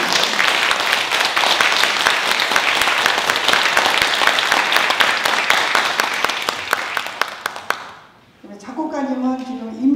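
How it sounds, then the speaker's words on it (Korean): An audience at a Korean art song concert bursts into loud, sustained applause for poets and composers being introduced, dense clapping that fades out near the end before a voice begins speaking. "자, 여러분들 큰 박수로"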